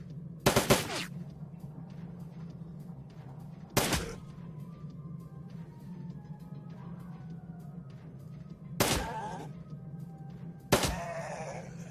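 Rapid gunfire in the video game Shadowrun: Dragonfall, with four sharp bursts spaced a few seconds apart over a low steady hum of background game ambience.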